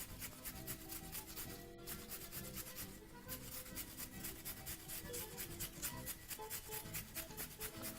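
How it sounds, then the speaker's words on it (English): A carrot being grated over a bowl with a grater attachment, a quiet, continuous rapid rasping and rubbing that goes on evenly throughout. "just hold your grater attachment right over the bowl and proceed to grate some very, very nice julienne"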